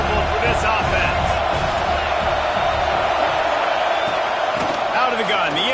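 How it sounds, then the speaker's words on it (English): A college football stadium crowd at a Texas versus Notre Dame game roars steadily and loudly throughout, with a voice talking over the noise. "This crowd trying to make life miserable for this offense."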